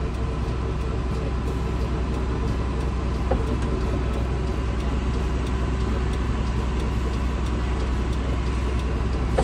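A John Deere 6610 tractor with 7000 hours on it, in rare good condition, runs with a steady low engine drone that holds unbroken and even for the whole stretch, with no voices over it.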